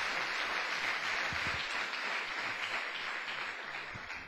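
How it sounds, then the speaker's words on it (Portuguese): Congregation in a church clapping together in sustained applause, a dense steady wash of hand claps that holds throughout and tapers slightly toward the end, with no talk over it. "Uma salva de palmas para o Senhor."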